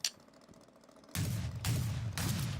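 Rapid-fire cannon weapon in a video game shooting in three heavy, booming bursts, each loud and sustained for about half a second with short gaps between, after a quiet lead-in.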